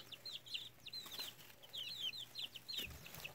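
Chickens, including breeds such as Wyandotte, Brahma and Isa Brown, cluck softly and repeatedly in short high chirping phrases, faint and close, with a low steady hum beneath.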